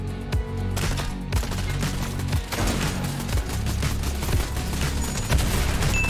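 Dense, continuous gunfire and rapid bursts from weapons in the video game Fortnite, loud and sustained throughout with overlapping shots and no voices.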